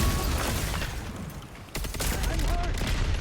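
Rapid gunfire from a shooter video game, Concord, with a dense burst of shots that briefly drops off before resuming, loud and continuous over game noise.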